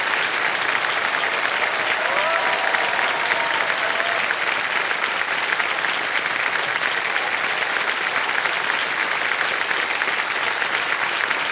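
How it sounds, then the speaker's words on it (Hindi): Sustained applause from a studio audience on the Kaun Banega Crorepati game show set, dense and steady for the whole stretch with no voices over it. "तालियां बजती रहें इनके लिए"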